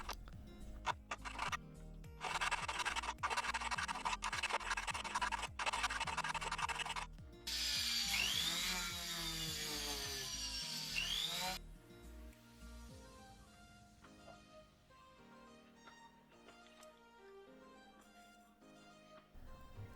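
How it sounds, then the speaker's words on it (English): Filing and sanding away excess silver inside a ring band by hand with a needle file, giving steady rasping, scraping strokes in bursts, close up with no talk. "I need to file and sand down the excess material on the inside of the ring"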